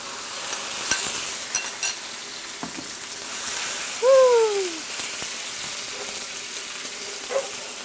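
Chicken and cucumber stir-fry in a wok with a soft, steady sizzle. Occasional utensil scrapes and a brief squeak of stirring break through the sizzle.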